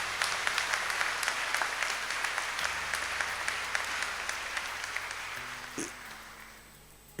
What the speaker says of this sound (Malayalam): ഒരു നിറഞ്ഞ കയ്യടി നൽകി ഞങ്ങൾ അറിയിക്കുന്നു